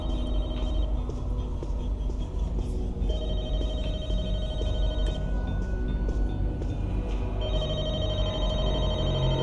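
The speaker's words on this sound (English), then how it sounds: "The phone is ringing." A telephone rings repeatedly in The Walking Dead: Michonne video game, its bell tones returning in steady bursts over a dense, constant game soundscape with low rumbling ambience.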